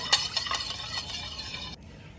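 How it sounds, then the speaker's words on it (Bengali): A spoon stirring yeast into hot milk, quick clinks and scrapes against the container, fairly close, ending abruptly. "এই গরম দুধের ভিতরে ইস্টগুলোকে ভালো করে এভাবে মিশিয়ে নিব"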